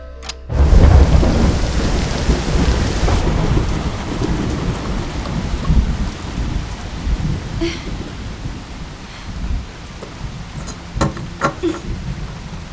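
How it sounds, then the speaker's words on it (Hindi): Heavy rain pours down with a deep rumble of thunder at the start, the downpour continuing loud and steady with scattered sharper splashes. "शैलू, ये क्या इतनी बारिश में?"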